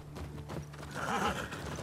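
A horse in the post-apocalyptic game The Last of Us Part II gives a clear, fairly close whinny with a snorting lead-in and faint hoof clip-clops, and nobody talks.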